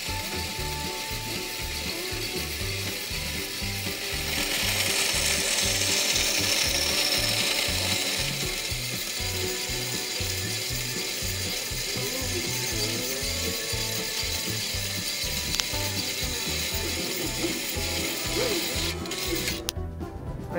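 A power saw cutting a piece straight across at a normal angle in a DIY job, making a loud, continuous mechanical whine with a rapid, rhythmic low pulsing throughout that cuts off abruptly at the end.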